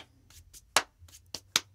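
Sharp hand claps ring out in a sparse, uneven rhythm, close and fairly quiet, with softer taps between the louder accents and no talking.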